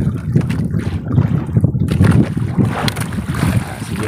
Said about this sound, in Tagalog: Lakas pa rin yung amihan mga bads.